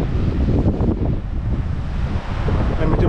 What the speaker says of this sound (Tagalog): Ay, medyo mas malakas dito mga koys ang hangin.